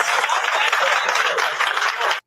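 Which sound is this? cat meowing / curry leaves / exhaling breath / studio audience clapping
studio audience clapping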